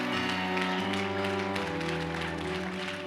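A church congregation applauds and acclaims the Lord, continuous clapping over a held organ or keyboard chord, loud and steady.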